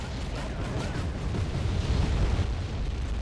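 Leopard tanks firing in the Wargame video game, heard as a continuous low rumbling barrage of distant explosions and booms with no clear single blasts.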